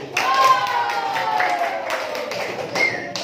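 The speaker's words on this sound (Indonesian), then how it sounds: "Beri tepuk tangan untuk kelompok 1" A classroom of students clapping for a presenting group, a short burst of close hand claps with voices and some taps mixed in.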